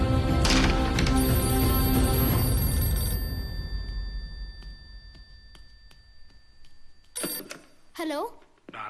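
An old-style telephone bell rings loudly and continuously for about three seconds, then fades to quieter rings, followed by a person speaking in a domestic film scene.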